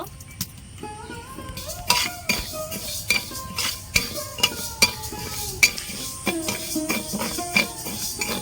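Mung lentils coated in salt and turmeric fry in a kadai, stirred with a metal spoon that clinks and scrapes against the pan in a run of sharp taps over a faint sizzle, with no speech.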